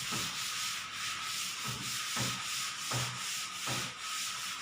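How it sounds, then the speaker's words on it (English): A board being rubbed clean in a classroom, steady scrubbing strokes in a regular back-and-forth rhythm, close and clear, with no talking over it. "I am again rubbing the board."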